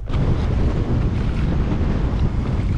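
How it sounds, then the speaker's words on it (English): Wind blows hard across a reservoir during a kayak outing, a steady loud rumble buffeting the microphone for the whole stretch with no talk. "Man, that wind."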